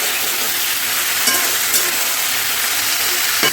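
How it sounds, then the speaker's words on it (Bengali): Small cut pumpkin pieces fry in hot oil for a Bengali mixed-vegetable dish, giving a steady close sizzle with a few brief clinks from stirring near 1.3, 1.8 and 3.4 seconds, and no voices. "ছোটো ছোটো করে কাটা কুমড়ো ভালো করে সবকটাকে আমি নাড়িয়ে দিচ্ছি ভালো করে সবকটাকে ভেজে নেব"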